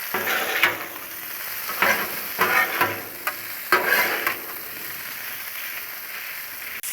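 Bacon and potatoes sizzle on a Blackstone griddle, a steady frying hiss broken by several bursts of scraping and stirring with a spatula, close and fairly loud.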